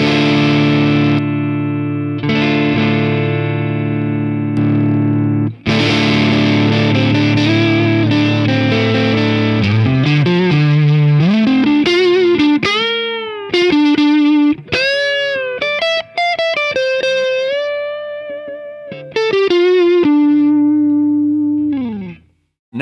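Electric guitar through a boutique distortion pedal into a Marshall amp, loud sustained overdriven chords giving way to bending single-note lead lines, thick and saturated, no voices.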